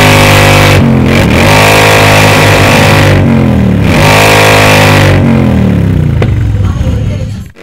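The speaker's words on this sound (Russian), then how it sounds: "Рев моторов продолжался до самой ночи" Loud Harley-Davidson motorcycle engines revving up and down in repeated surges at a biker season-opening rally, heavy and distorted, fading out at the end.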